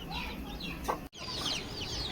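A hen clucks softly in a poultry brooder, a few quiet, scattered clucks over a low farm background with a brief dropout partway through.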